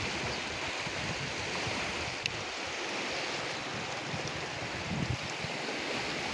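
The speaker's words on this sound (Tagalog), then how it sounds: "Ito mga kalakbay, ang ilog ng Labangan" The Labangan River rushes in a steady, broad wash of flowing water, continuous and fairly close, with faint wind buffeting the microphone and no voices.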